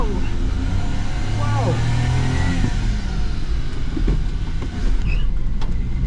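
A Suzuki Carry mini truck drives off and accelerates, its steady engine and road noise loud and close from start to finish, with excited voices exclaiming over it.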